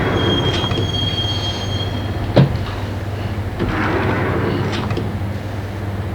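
Subway train from Max Payne riding along with a steady rumble and brief high-pitched wheel squeals, including a sharp squeak near the middle, continuous and fairly loud throughout.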